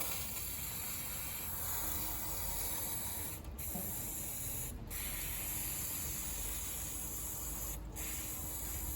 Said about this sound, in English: Just with a can of spray degreaser.